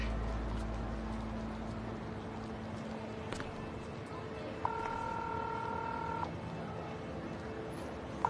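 A telephone dialing tone sounds once for over a second over a low, steady background hum, close and clear.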